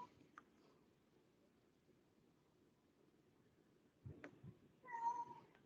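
A pet cat named Kitty meows at close range near the end, a short plaintive call rising out of quiet room noise, after a few soft bumps and handling sounds.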